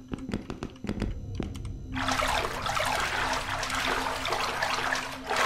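Footsteps splashing through shallow water in the Inside the Backrooms video game, a steady wash of sloshing that starts after a few sharp taps and continues without talk.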